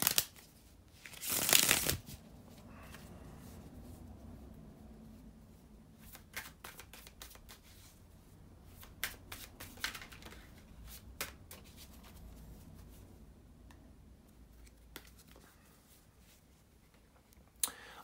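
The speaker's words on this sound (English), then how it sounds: "to shuffle the tarot cards" Tarot cards are shuffled by hand: a loud riffle near the start, then a long run of soft, irregular card slides and taps, close up.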